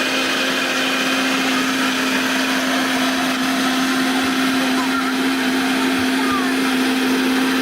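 A mixer grinder whirs continuously at high speed while grinding cardamom for a village fruit popsicle mix, loud and close with a steady motor whine throughout.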